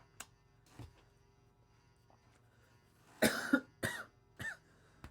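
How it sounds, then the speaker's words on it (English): A few harsh coughs close by, three or four bursts in quick succession after a quiet stretch with soft clicks and a low hum. "sorry about the cough"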